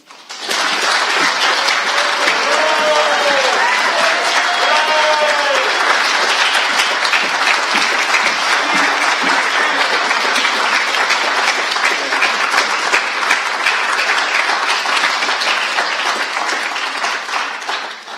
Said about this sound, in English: Please can we have a final round of applause to thank Alia for all of her hard work